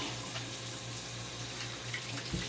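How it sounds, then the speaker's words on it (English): Running tap water while washing hands at a kitchen sink during meat preparation, a steady close hiss of flowing water with faint splashes, no talk. "Make sure you're washing your hands well, especially when dealing with meat."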